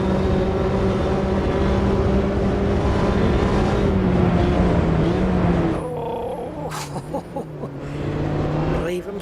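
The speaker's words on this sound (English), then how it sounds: "Listen to the rumble of the tyres on the track." A Mini racing around Road Atlanta in the Automobilista 2 sim gives a loud, steady engine drone with rumbling tyres under braking, easing off briefly before building again, with a voice talking over it.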